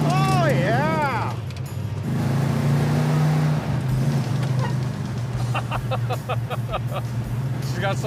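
Oldsmobile Cutlass rumbling steadily along the road, engine drone loud and constant throughout, with a passing emergency siren wail early on and some chirping sounds later.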